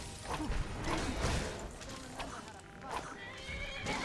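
A horse whinnies and hooves clop amid game-like clatter and whooshes in Skyrim, loud and busy, with a voice talking over it.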